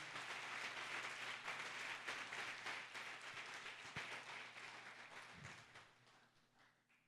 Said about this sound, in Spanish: Dale un aplauso al Espíritu Santo de Dios.